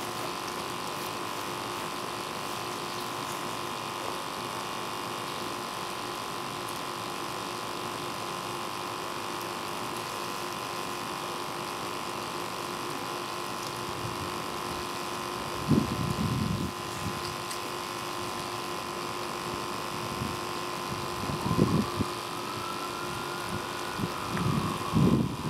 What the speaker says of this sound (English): a regular fog of water up there coming out of that thing, so it's spraying really well